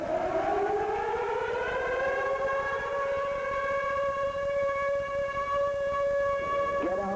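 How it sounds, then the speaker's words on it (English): A civil defense siren wails steadily and loudly, its pitch rising at the start then holding a long sustained tone with no voices. "It took an agonizing 14 minutes before the sirens finally sounded."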